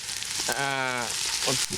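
Food fries in a pan with a steady, close sizzle that runs throughout, while a voice speaks briefly over it.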